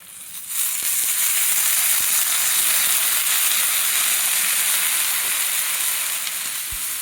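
Green peas frying in hot oil after turmeric, giving a steady, bright sizzle throughout with occasional faint clicks of stirring in the pan, close and unbroken, no voices.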